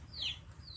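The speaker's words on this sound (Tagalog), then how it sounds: "Ingay ng manok." A chicken clucks once nearby, a short rising squawk that stands out briefly over a low rumbling background, followed by a fainter second call.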